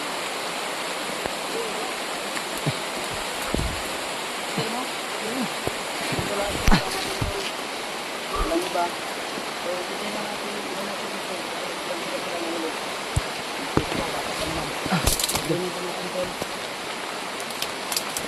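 Heavy rain falls as a steady, dense wash of noise with occasional sharper drops and knocks, and faint voices are audible in the background.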